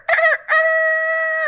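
A storyteller's voice imitates a rooster crowing: a short clipped call, a brief break, then one long sustained crow held loud and close, with no other talk.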